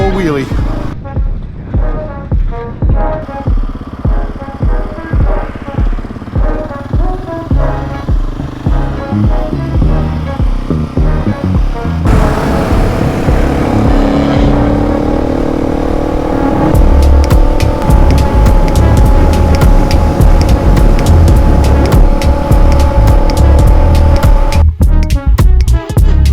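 Motorcycle engine revving hard during a wheelie on a desert road in Death Valley, loud and close, with rhythmic throttle pulses at first that give way to a sustained high-revving roar with wind noise.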